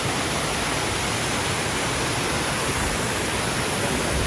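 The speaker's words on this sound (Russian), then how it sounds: "Водопад. Водопад." Steady, loud roar of a waterfall in Goa heard up close, a constant broadband rush with no breaks and no voices.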